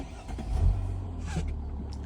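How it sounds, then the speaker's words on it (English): A Mercedes ML350 Bluetec with the OM642 diesel engine turns over and settles into a low, quiet, steady idle rumble close by. "Nice quiet engine, these diesels,"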